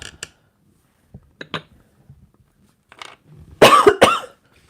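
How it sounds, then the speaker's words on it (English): A few short coughs spread out, then a louder burst of two harsh, close coughs near the end, with quiet gaps between. "I will randomly cough at times"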